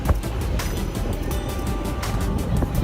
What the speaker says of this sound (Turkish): Şu an teknede ilerliyoruz.